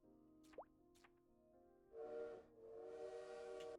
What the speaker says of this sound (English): Hear the train blaring in the background.